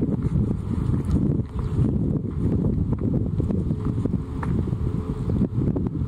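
Wind buffets the microphone on Lake Sagami beside a single scull, a loud continuous low rumble with gusty swells throughout.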